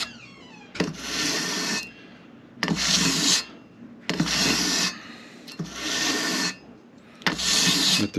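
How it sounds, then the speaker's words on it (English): A concert ukulele fingerboard is sanded with 400 grit sandpaper, heard as five steady rasping strokes of about a second each with short pauses between them, close and fairly loud with no talking. "I'm going to continue to sand until we're down low"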